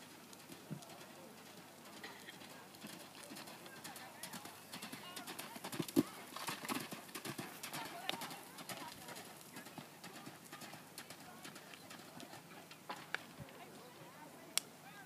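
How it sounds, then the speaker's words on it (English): Horse hooves in an arena at a farm horse show, soft, irregular clip-clop thuds at moderate distance, with pigeons cooing nearby and a voice talking over it. "So currently in the arena is horse number 99, Kiara Carlson, on her horse Mickey Mouse."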